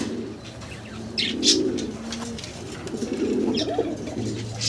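Gola pigeons at a pigeon market, soft repeated cooing calls close by, with occasional chirps and faint wing flutters over a low background hum.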